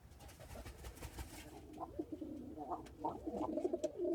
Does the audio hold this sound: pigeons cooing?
yes